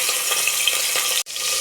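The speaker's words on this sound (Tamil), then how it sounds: "இடித்து எடுத்த சின்ன வெங்காயம் போட்டுக்கலாங்க" Crushed small onions (shallots) dropped into about four spoons of hot oil for tempering a mutton trotter (aattukal) curry give a loud, steady close-up sizzle that cuts out for a moment near the end.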